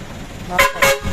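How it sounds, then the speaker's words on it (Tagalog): A loud bus-style air horn fitted to a Toyota Fortuner blasts twice in quick succession, two short, bright honks close by over a low background hum. "Tapos ito yung horn na yan, dalawa."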